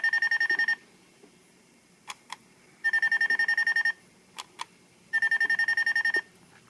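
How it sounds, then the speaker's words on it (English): Three bursts of rapid electronic beeping from a Ninja Sentai Kakuranger Doron Changer toy communicator, each about a second long, separated by quieter gaps with a few isolated clicks and blips. "You press this button right here to have some beeps and boops of communication"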